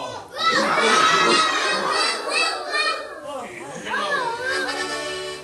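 A group of children loudly imitate a dog's barking together, their shouted voices overlapping in a lively, noisy burst.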